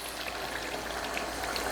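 Tomato sauce is poured into a pot for a classic Italian tomato sauce, giving a steady, close, continuous wet rush for the full stretch with no talking.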